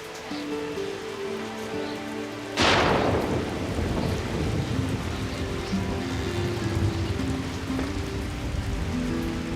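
Heavy rain pours steadily, then a sudden loud thunderclap breaks in and rumbles on under the downpour, with a low musical drone running in the background.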